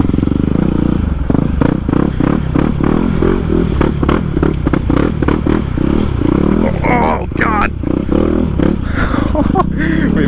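A motorcycle ridden through a deep mud pit, engine loud and close with rising revs, rapid clatter and splashy scraping throughout, with a person talking over it.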